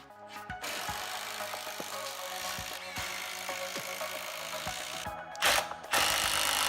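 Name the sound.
screwing through plywood frame ends to build workbench top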